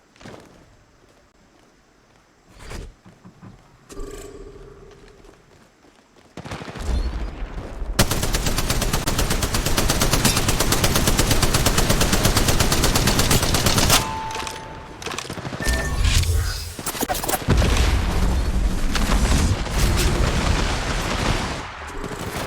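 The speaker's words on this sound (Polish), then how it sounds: "Na pewno tu są strzały." Quiet opening with a few isolated shots, then long sustained bursts of rapid automatic gunfire from the video game Apex Legends, loud and close, with brief pauses and more volleys.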